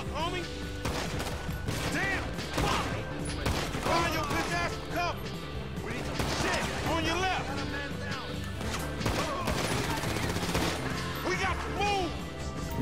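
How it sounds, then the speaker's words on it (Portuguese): Gunfire in GTA V during a shootout, rapid cracks and bursts layered with crashes and game music, continuous and loud throughout, with someone talking over it. "Os caras estão atirando, cacilda."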